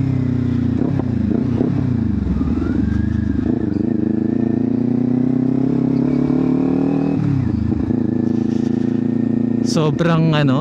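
Kawasaki Ninja 400 motorcycle engine running steadily and loud up close, a smooth rumbling drone with small pitch shifts, ending in a few sharp rev blips.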